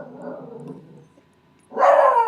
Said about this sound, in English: y'all hear my dog barking?